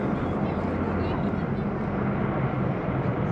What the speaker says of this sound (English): They have radial engines, so they got a great barking sound.